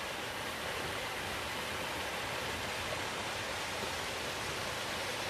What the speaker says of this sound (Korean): 청수폭포. 정릉 계곡은 청수골로 통합니다.